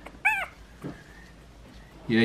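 A puppy gives a brief, high whimpering yelp while being held for tube feeding, with a faint whine or cry following at close range under a person's talking.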